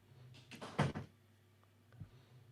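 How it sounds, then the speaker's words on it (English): A door swings shut indoors with a single soft thud and brief rattle, followed by a faint second knock a moment later, at moderate distance in a quiet room. "Actually, I should close the door"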